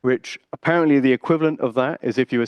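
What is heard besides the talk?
No everyday noise stands out behind the speech.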